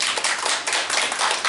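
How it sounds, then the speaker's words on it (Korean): Audience clapping at a debate forum on a radiation school-meals ordinance, a continuous burst of many hands heard close and fairly loud, with no talk over it. "네, 박수 한번 보내주시고"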